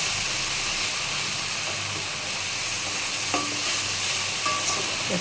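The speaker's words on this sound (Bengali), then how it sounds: "একটু কষিয়ে নেব।" Mixed spices with turmeric frying in oil in a pan, a dense, constant close-up sizzle with faint clicking and scraping from the spoon as the masala is stirred and roasted, no voices over it.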